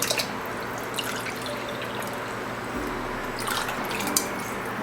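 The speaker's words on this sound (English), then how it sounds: "Now I'm going to be adding my water." Water poured into a cooking pot while making vegan stewed red beans, a steady close trickle and splash running through the whole stretch with a few brighter drips near the end.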